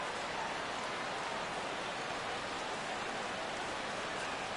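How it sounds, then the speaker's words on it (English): Steady rain pours over a ballpark in MLB The Show 16, an even, unbroken hiss throughout with no other sounds standing out. "The rain, as we've mentioned, coming down fairly steadily here at game time."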